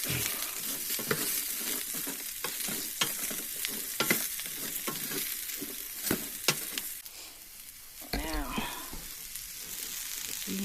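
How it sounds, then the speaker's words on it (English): Mushrooms and onions fry in a pan over a camp stove on a winter overnight backpacking trip in Arizona, with a steady close sizzle and repeated scraping stir strokes, a few spoken words mixed in. "Mushrooms and the onions in the pan. Now I'm going to stir those up."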